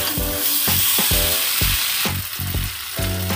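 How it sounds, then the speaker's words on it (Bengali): Water poured into a hot pan of aloo dum sets off loud, crackling sizzling and frying with bursts of hiss and repeated stirring thumps, close up, no voices. "জলটা দিয়ে দিচ্ছি।"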